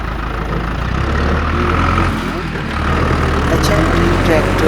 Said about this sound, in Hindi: ये HMT ट्रैक्टर।